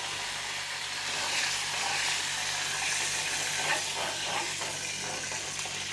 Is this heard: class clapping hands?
no